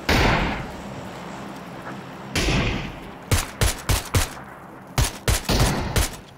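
Rapid bursts of gunfire in PUBG, a battle royale shooter, crack out in a quick irregular string of loud sharp shots over steady background ambience, with an earlier heavy rumble before the shots begin.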